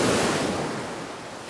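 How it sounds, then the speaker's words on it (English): Ocean surf rolling onto a beach with deep moving water close to shore, a steady loud wash of breaking waves fading slightly, with no voices. "Got a lot of moving water here."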